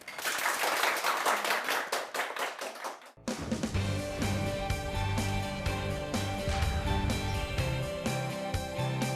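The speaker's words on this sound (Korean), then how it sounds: "강의를 박수로 청해 듣겠습니다" An audience at a Korean lecture show claps to welcome a counseling professor, a loud burst of steady applause that stops abruptly after about three seconds, giving way to sustained music.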